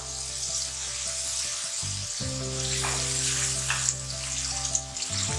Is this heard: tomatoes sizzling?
yes